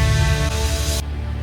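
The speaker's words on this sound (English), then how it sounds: "when this song is done, it comes this ambience track" A dense, loud ambient drone fills the gap between black metal songs, sustained tones and a heavy low rumble that suddenly drop away near the end, leaving a thinner bed.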